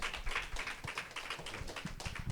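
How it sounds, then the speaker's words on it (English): A fairly quiet audience at a breast cancer talk applauds in a dense patter of many overlapping hand claps, even and continuous with no voices rising above it. "a big round of applause"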